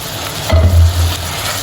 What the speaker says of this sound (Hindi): अब ये जो हमने कीमा मैरिनेट किया था वो मैं इसमें ऐड कर दूँगा।